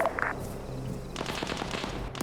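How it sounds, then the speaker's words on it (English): Gunshots and bursts of machine gun fire ring out in a military shooter video game, sharp rapid cracks and rattling volleys that fill the whole moment, loud and continuous without speech. "I'm gonna wait till I hear some gunshots."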